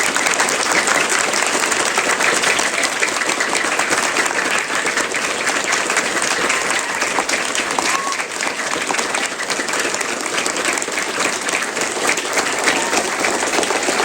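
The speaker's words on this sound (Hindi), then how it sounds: "आपको जोर से ताली बजानी है, फटाफट फटाफट, और गिननी है कि मैंने कितनी ताली बजाई है" A room full of people claps hard and fast during a timed counting exercise at a talk, a dense, continuous roar of applause sustained without a break.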